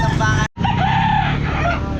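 Roosters and chickens at the Calumpit pet market, with loud close crowing and clucking broken by a brief cutout, as people talk nearby.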